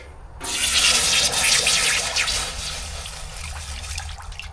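A heated steel bolt, being annealed, plunges into water with a sudden loud rush of hissing steam. The hiss swells at once, then slowly fades to a quieter bubbling simmer.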